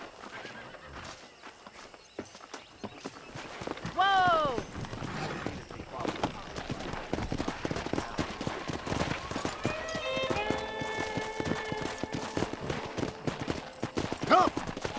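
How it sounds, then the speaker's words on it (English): A pack of wild horses in Red Dead Redemption neighs and whinnies while hooves clip-clop and gallop over rough ground, with a voice calling out amid the loud, busy open-range action. "there's a pack of wild horses nearby"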